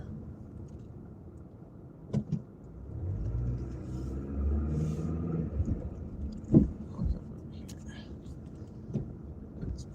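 A car's engine rumbles low and steady while driving on a snowy, icy day, swelling briefly as it pulls away, with a few knocks and a person murmuring nearby.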